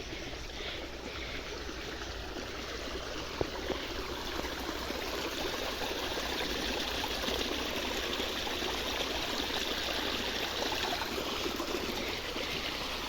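Water rushes steadily along a mountain irrigation channel (kuhl) beside rice paddies in Himachal, a continuous close, even gurgle with no one talking.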